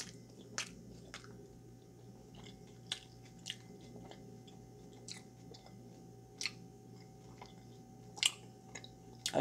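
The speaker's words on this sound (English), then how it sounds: "I'm going to try to take a bite of this taco" Close, quiet chewing of a soft cheesy beef taco, with soft wet squishes and occasional sharper bite clicks scattered across a low background hum.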